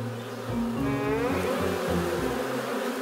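Cartoon bees buzz from a beehive in a steady droning hum with wavering pitch, loud and close, continuing for a few seconds.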